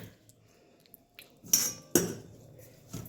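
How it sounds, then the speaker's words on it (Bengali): A metal spoon knocks and scrapes against a pan while stirring pea curry, a few sharp clinks and scraping strokes at irregular intervals, close by over a quiet background. "একটু মিশিয়ে নিচ্ছি ভালো করে"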